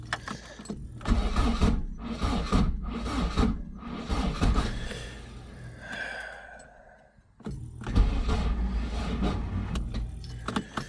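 A Ford Escort Mk1 with a brand-new starter motor cranks without firing, in a long run of rhythmic churning bursts, then a pause and a second cranking attempt.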